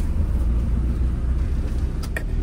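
A car driving through Muntinlupa during a typhoon with light drizzle, heard from inside as a steady low road rumble and engine drone with no talk.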